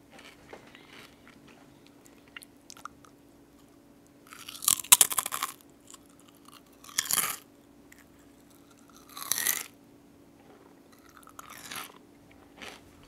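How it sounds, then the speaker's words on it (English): Food crunched and chewed right up against a microphone: several loud, close bursts of crisp biting spaced a couple of seconds apart, with quiet gaps between and no talking. "they're just hearing me like crunch super close to my mic"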